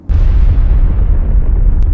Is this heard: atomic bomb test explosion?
yes